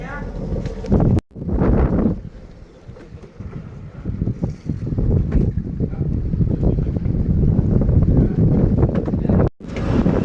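Rumbling, wind-battered noise of a fishing boat out on rough sea, continuous with a couple of brief dropouts, with indistinct talking mixed in.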